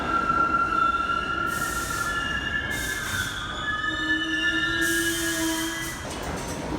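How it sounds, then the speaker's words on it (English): A New York City subway 1 local train pulls into the 18th Street station, its wheels squealing in long high tones over a loud rolling rumble, with bursts of brake hiss as it slows to a stop. "the 1 train stopping here as a local train still heading downtown"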